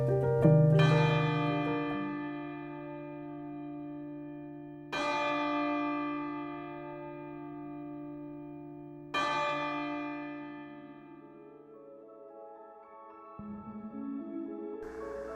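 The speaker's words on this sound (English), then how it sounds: "they rang the original bell 29 times for each member that perished" An original ship's bell is rung at a memorial ceremony over a wreck, with three clear, resonant strikes spaced about four seconds apart, each ringing out and fading slowly, followed by quieter sounds.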